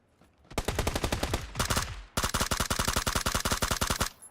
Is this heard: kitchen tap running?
no